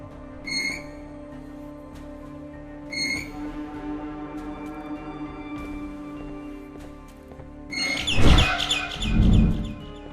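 Short bird chirps in the Garten of Banban 6 video game, two brief tweeting bursts a few seconds apart over a steady droning hum, followed by a louder rumbling clatter near the end.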